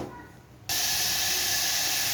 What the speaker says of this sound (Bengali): আর এই সবজিগুলোকে আমি একটু এবার ভেজে নেব।